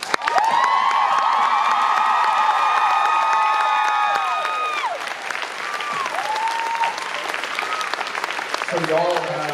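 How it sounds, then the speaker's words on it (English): Convention audience applauding and cheering at a panel, dense clapping with scattered whoops and high shouts, loud and sustained before thinning slightly toward the end. "So I'd like a round of applause for Mr. and Mrs. Ackles."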